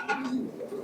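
Fancy pigeons at a farm in Natore giving a short soft coo, brief and fairly quiet, heard close with nothing else over it.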